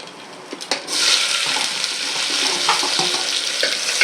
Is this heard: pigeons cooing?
no